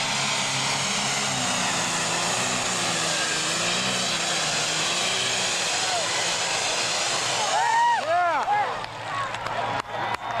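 A 7,700-pound superstock tractor with four superchargers at an NTPA pull in Shiawassee, Michigan, roars steadily and loudly for most of the span, then its pitch swoops through several sharp rising and falling revs near the end.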